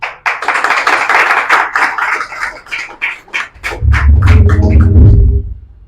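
Scattered hand claps ring out in an irregular burst, growing denser, before a low droning hum rises beneath the last claps.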